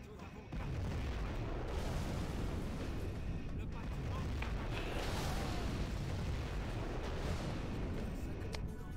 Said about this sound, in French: Lancement du missile nucléaire. Détruire la zone, là.